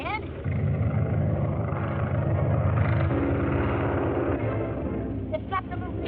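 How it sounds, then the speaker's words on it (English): Ace's propeller plane droning in toward an airport, a continuous engine rumble that holds steady throughout, with voices talking over it. "Ace's plane's coming in."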